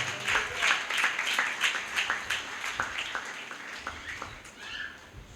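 A church congregation claps together in quick, lively rhythmic bursts during a sermon, moderately loud and steady throughout.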